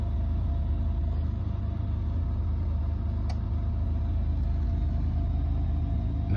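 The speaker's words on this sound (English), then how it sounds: "Now the signal came to the generator controller to stop the generator. So it's going through the shutdown sequence." An off-grid generator under a remote auto start-stop controller runs through its shutdown sequence: a steady, close, low mechanical drone with a humming engine tone throughout, broken by one sharp click partway in, with no voices.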